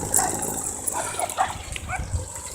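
Dogs barking and yipping outdoors near dunes, short bursts mixed with whimpers over a steady background hiss, with no talk.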